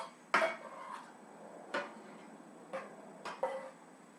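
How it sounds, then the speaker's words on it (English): A scoop clinks against a pot of hot lasagna sauce being stirred, four or five distinct metallic knocks spaced unevenly, close and fairly quiet with a soft background hiss. "I'm going to go ahead and just kind of stir it around with my scoop"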